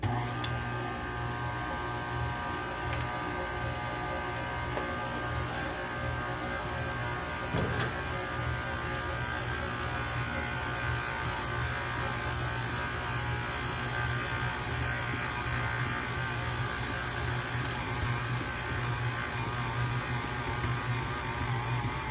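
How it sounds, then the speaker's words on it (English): A bread machine kneading flour into dough, a continuous close motor whir and buzz with a faint rhythmic churn, steady and unbroken throughout with no talking. "Now it's going to work your machine, so just bear with it."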